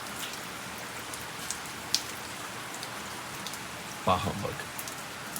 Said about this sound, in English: We get hot garbage rainstorm.